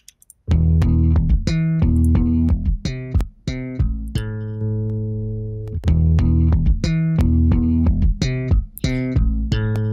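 Electric bass track passed through EQ and a transformer-style saturation plugin, playing a punchy rhythmic line of plucked notes, loud, close and warm, with short gaps between phrases and no voices.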